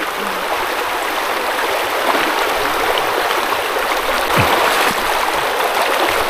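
A mountain river rushes over rocks as a steady, loud, close stream flow, a constant bright wash of water with small splashes and no talking.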